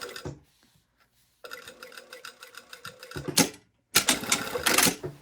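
A sewing machine stitches a dress lining in rapid rhythmic bursts, fast mechanical ticking starting and stopping several times with short pauses between runs, close and clear with no talk.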